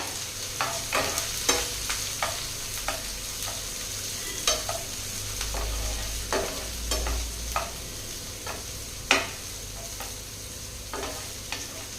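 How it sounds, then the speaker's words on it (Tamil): Green chilli is stirred into an egg and bottle gourd masala frying in a pan. A soft, continuous sizzle runs beneath repeated scraping clicks of the spoon against the pan, with no voices. "இப்போ சேர்த்திட்டு நல்லா கலந்து விட்டுறலாங்க"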